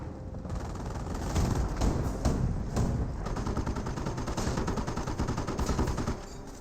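Gunfire rattles in a Company of Heroes 1 battle as dense, repeated bursts of small-arms and machine-gun shots, fairly faint and continuous, with a few heavier thuds mixed in.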